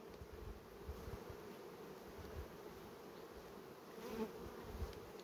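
Honeybees buzzing steadily in an opened beehive during a varroa treatment check, a dense, continuous low drone from many bees close by with no speech.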